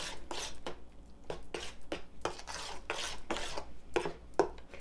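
Granola ingredients with orange zest, apple and cranberry are stirred in a bowl, making a series of close, dry scraping and rustling strokes that repeat roughly every half second.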